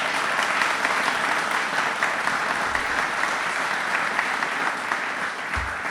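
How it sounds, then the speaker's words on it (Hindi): Continuous studio audience applause on a Republic Day quiz programme, dense and even throughout, with no speech over it. "तालियां सभी के लिए जोरदार शोरदार वाली होनी चाहिए प्लीज।"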